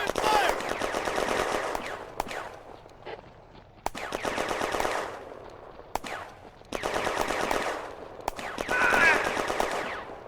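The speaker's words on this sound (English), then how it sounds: "Open fire!" Machine guns and rifles fire in a 1940 battle at a railway station, loud rapid bursts of automatic fire broken by sharp single shots, with short pauses between the volleys.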